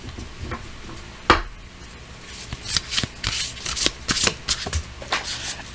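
Tarot cards riffled and shuffled close up in quick papery bursts, one sharp slap near the start, then a rapid rustling run of shuffles.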